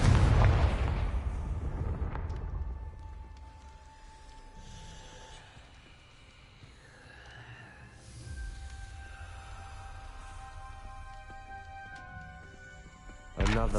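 A Confringo blasting spell from a Harry Potter video game bursts loudly at the start, then a quieter rumbling stretch of game ambience and effects follows, ending with another sharp burst.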